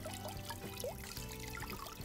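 Water trickling and pouring from a backyard garden fountain, a steady close splash with a brief voice in the background.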